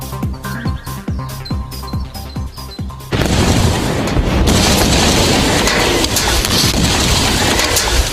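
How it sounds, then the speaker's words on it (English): Cesium metal sinking in water reacts violently, giving a run of sharp rhythmic pops and crackles before a sudden loud, broadband blast that roars on for several seconds. "the rapid generation of hydrogen gas should produce quite an explosion"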